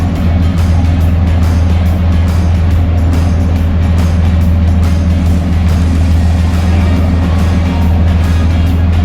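Motors running on a fishing boat out on open water chasing large bluefin tuna, a loud, steady, low droning engine roar that continues without a break, close to the microphone with wind and water noise over it.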